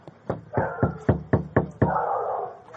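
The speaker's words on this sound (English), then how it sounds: "I'll give it the good old knowledge knock" Knuckles rap on a door in a quick series of about six distinct knocks, fairly close and loud, ending in a brief rustling noise.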